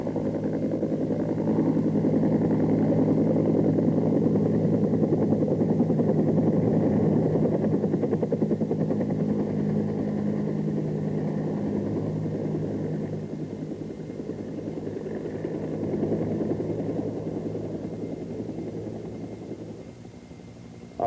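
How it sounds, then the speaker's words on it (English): Bell AH-1 Cobra attack helicopter in a flight simulator game, heavily laden and making a running takeoff: a steady, loud rotor and turbine drone holding throughout, easing slightly toward the end, with no talking. "A running takeoff allows a heavily laden Cobra to develop translational lift through forward speed before takeoff."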